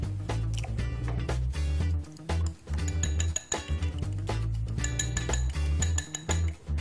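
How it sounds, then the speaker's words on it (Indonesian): Eggs whisked in a bowl for crab in Padang sauce, with fast rhythmic clinking of a utensil against the bowl in steady bursts and short pauses, close and fairly loud. "sekarang kita bisa kocok telurnya"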